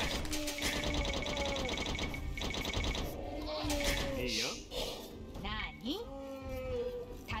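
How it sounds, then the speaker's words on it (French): Sheep bleat in a strategy video game, several wavering bleats rising over a busy bed of game music and effects. "On a trouvé 2 nouveaux moutons, ça c'est cool."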